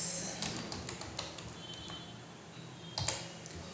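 Keys on a computer keyboard tap in a few quick, soft clicks over a steady background hum, close and fairly faint.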